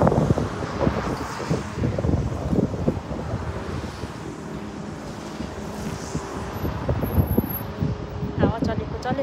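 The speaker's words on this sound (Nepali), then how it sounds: "हावा चलेकै।" Gusty wind buffets the microphone outdoors on a UK street, a rough low rumble that swells and eases throughout, with a person's voice mixed in.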